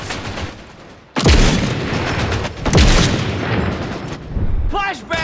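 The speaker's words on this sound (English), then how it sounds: "Flashbang!" Two loud, close flashbang grenade blasts go off in the shooter game Caliber, each a sharp broadband burst with a ringing tail, followed by a brief voice.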